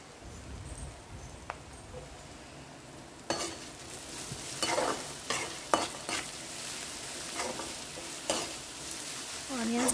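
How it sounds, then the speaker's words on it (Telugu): Onions fry in hot oil with a pinch of asafoetida for a Telugu banana flower curry, a soft sizzle that grows busier partway through as a spatula scrapes and stirs in repeated bursts, close and without speech. "ఆనియన్స్ గోల్డెన్ బ్రౌన్ కలర్ వచ్చేంత వరకు వేయించుకోవాలండి"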